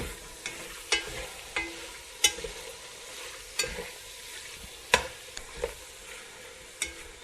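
Sausage browning in a pot for Cajun jambalaya, with a low sizzle broken by sharp scraping knocks of a spoon stirring about once a second, close and clear, with no voices.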